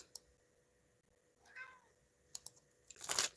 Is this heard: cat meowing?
yes